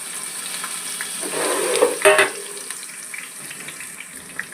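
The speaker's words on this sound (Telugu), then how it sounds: "ఇలా మిక్సీ పట్టుకున్న దాన్ని ఉల్లిపాయ గుజ్జుని వేపుకోవాలండి" Onion paste frying in oil with curry leaves for a fish curry, a soft steady sizzle with a brief louder burst of stirring near the middle, close and without talk.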